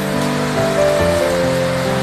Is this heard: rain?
yes